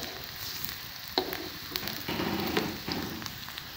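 Onions shallow-fry in a pan with a soft, steady sizzle, close and fairly quiet, broken by a few stirring scrapes; no voices.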